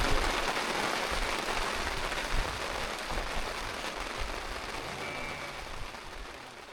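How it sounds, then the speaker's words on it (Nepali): Steady rain falls in a mountain sheep pasture, a dense even hiss with faint pattering throughout and no voices. "पानी पर्यो मौसम बिग्रियो"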